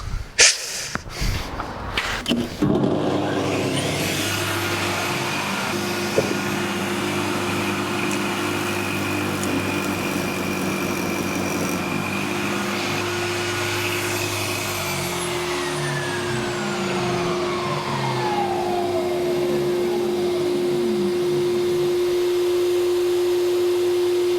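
A homemade plywood spindle moulder converted from a circular saw starts with a few clunks, then spins up to a steady, loud motor whine with a constant hum that runs alone for about twenty seconds.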